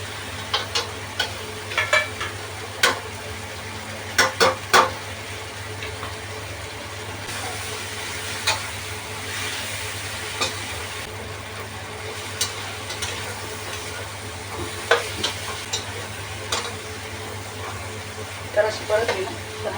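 Stuffed eggplants with potato and tomato fry in a pan, giving a steady low sizzle with scattered clicks and scrapes from stirring throughout.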